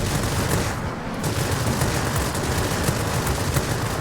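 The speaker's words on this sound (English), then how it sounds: "there you start firing your guns. Good job, rear gunner." Rear gunner's machine guns firing from a warplane in World of Warplanes, a dense continuous rattle of rapid shots over a roaring engine drone, loud and sustained throughout.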